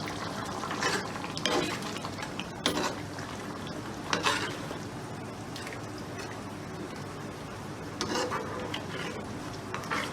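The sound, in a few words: stirring Manchurian sauces together in a pan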